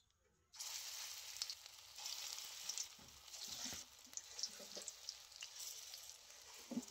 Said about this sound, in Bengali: এবারে আমি অল্প অল্প করে বড়াগুলো ভেজে নেব